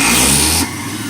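An electric juicer motor pressing apples and vegetables runs with a loud, dense whirring roar that abruptly drops to a lower, quieter hum about halfway through.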